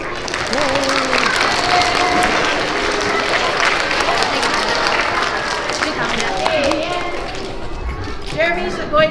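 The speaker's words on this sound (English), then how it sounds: "Give her a round of applause." Young pre-K to third grade schoolchildren applaud at a character education assembly in a school, a dense sustained clapping from a crowd that holds steady for several seconds, with children's voices calling out over it.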